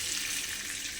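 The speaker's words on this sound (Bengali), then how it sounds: "হালকা হালকা ভাজা হচ্ছে, দেখো বন্ধুরা, আমার বেগুনটা কিন্তু হালকা ভাজা হয়ে গেছে" Eggplant fries in a pan for a spicy fesa fish curry, giving a brief, even, bright sizzle with no voices.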